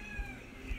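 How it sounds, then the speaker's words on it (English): A pet cat gives a couple of soft meows, faint and close, against a low steady background hum. "Kitty!"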